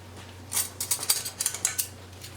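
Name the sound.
spoons mixing coloured ice cream mixture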